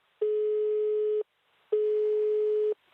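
A telephone call goes unanswered as two identical steady electronic tones sound, each lasting about a second with a short silent gap between them, clean and close.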